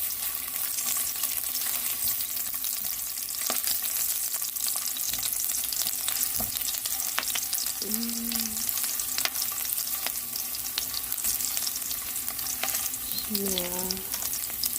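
Ginger sizzling in hot oil for spicy chicken, a steady close crackling hiss that runs throughout, with a couple of brief voice sounds over it.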